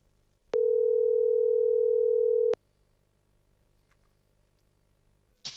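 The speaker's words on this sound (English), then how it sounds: "Let me try to call Cole one more time here" A telephone line tone while a call is being placed plays as one steady, loud electronic tone lasting about two seconds and then stops abruptly, leaving faint low background hum.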